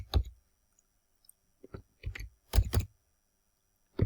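Computer keyboard keys are struck while code is entered, giving sparse, separate clicks and small clusters of taps spread across quiet pauses, heard close and with no talking.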